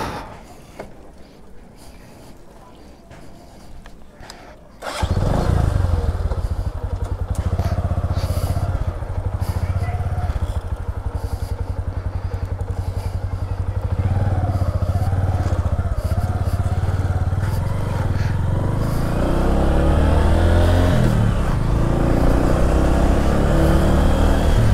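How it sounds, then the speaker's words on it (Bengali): A Bajaj Platina 110 H Gear, a 110 cc petrol motorcycle, starts up after a few quiet seconds, then its engine drones loudly and steadily while riding, with wind rumble and rising revs toward the end. "প্লাটিনা 110H গিয়ার, 110 সিসির ভালোই মোটর সাইকেলটা"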